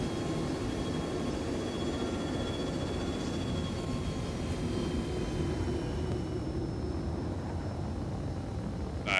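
A jet's afterburner in a video game roars as a steady, broad rushing drone with a faint high whine, continuous and fairly loud throughout with no talk over it.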